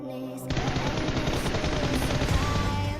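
Rapid automatic gunfire from a mobile shooter game montage, loud and continuous after a brief quiet start, a dense stream of sharp shots with no talking.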